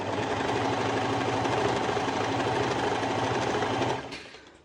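A serger sewing machine with its knife disengaged stitches fabric in a steady, fast mechanical whir with rapid rhythmic clatter, close and loud, slowing and stopping just before the end.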